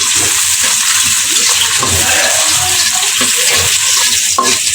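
Chopped onions fry in soybean oil with a steady, loud sizzle, broken by brief stirring scrapes, and no talk.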